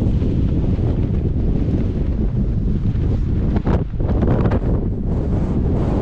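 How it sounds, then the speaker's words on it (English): Strong wind on a steep coastal hiking trail buffets the microphone in a steady, loud roar, with gusts rumbling and surging throughout and no talking. "It's very windy."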